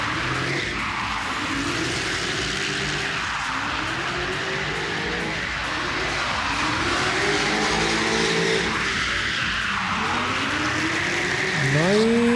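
A drift car slides through its final scored qualifying run at a drift show, with a continuous loud tire squeal and swooping, wavering engine revs that rise and fall over crowd and commentary noise, ending in a sharp rising squeal.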